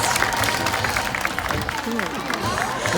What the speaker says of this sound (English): All right, Bunker, you need some applause first.